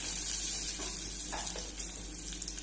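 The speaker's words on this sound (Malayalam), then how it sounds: "അതിനുശേഷം നമുക്ക് ഇതിലേക്ക് കായപ്പൊടി 1 ടീസ്പൂൺ കായപ്പൊടി ഇട്ട് കൊടുക്കാം. ഒന്ന് വഴറ്റി കൊടുക്കാം." Asafoetida powder frying in oil in a pan for vadukapuli lime pickle, giving a steady soft sizzle with a few faint scraping stirs, continuous and close.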